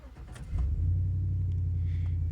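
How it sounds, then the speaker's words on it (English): A 2010 GMC 2500HD pickup with a 6.0L engine cranks briefly and catches, then settles into a steady, deep, close idle rumble. "let's go back and we'll start her up"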